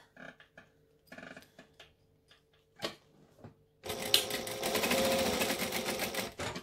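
A sewing machine stitches the top edge of a bi-fold wallet, running in a loud, steady burst for about three seconds after scattered light handling clicks and taps.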